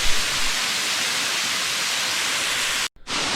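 A mountain waterfall in North Carolina rushes in a loud, steady broadband roar heard from close behind the falling water, with a brief break near the end.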